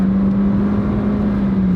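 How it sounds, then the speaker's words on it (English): A car with a tracking problem speeds up onto a highway, a steady loud droning hum of engine and road noise held evenly throughout, with no voices. "Now we're going to take it on the highway."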